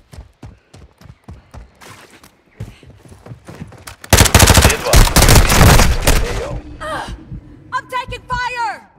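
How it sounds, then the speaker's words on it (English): Video game gunfire crackles in rapid, evenly spaced shots, then swells into a loud, dense burst of automatic fire with explosions, while voices and game chatter come through near the end. "I'm taking fire!"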